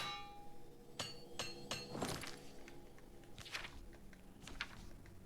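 Metallic hammer strikes repairing a weapon in a goblin-themed video game: three sharp clanks in quick succession, then a scraping, crunchy impact and a softer pair of clinks later, all set over a low steady game ambience.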